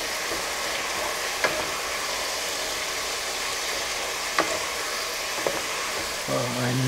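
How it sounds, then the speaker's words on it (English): Stew with added sugar sizzles steadily in a pan while a spoon stirs it, giving a continuous close frying hiss with a few light scrapes and taps, and a brief voice at the end. "and stir again"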